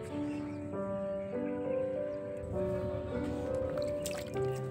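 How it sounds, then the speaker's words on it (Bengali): Water poured onto the soil of a freshly transplanted lemon tree in a crate, making soft close trickling and dripping sounds with some faint tonal ringing. "দেখুন এবার জল দিয়ে দিচ্ছি।"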